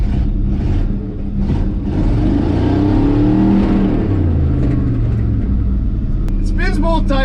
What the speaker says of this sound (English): It spins both tires and it smokes a lot.